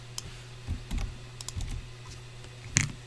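Typing on a computer keyboard comes through as irregular clusters of close, crisp key clicks with short pauses between bursts, ending in one louder keystroke.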